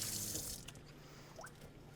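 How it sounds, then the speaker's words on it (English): Water running from a kitchen tap while hands are washed, a soft steady hiss that fades after the first half second into a faint trickle, heard alone. "Let me wash my hands."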